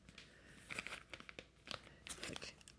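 A plastic bag holding a magazine-size comic is handled up close, giving quiet, irregular crinkles and crunchy rustles in short bursts with small gaps between them.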